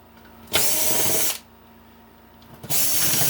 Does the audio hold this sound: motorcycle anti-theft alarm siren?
no